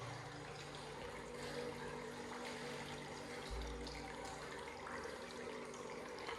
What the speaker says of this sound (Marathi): पाणी पिंडीतून येतं पाणी. पिंडीतून पाणी येतं.